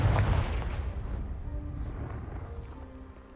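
A blasting-spell explosion in a video game, one loud boom at the start that decays into a long, fading rumble with no talk over it.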